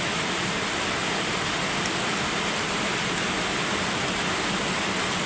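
Heavy morning rain pouring down in Dasmariñas, Cavite, a loud, steady, dense roar of falling water that stays constant with no breaks.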